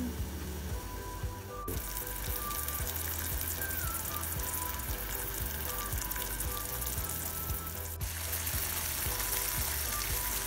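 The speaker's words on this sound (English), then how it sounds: "look at that, it's starting to boil." Sugar syrup for candy apples bubbles and sizzles in a pot on the stove, a steady close crackling boil running throughout with no talking.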